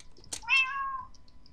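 A cat in Minecraft gives one clear, close meow that rises and falls in pitch, preceded by a short click, over an otherwise quiet background.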